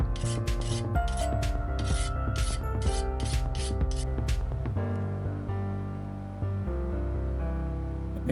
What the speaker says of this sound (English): A quick deburr here.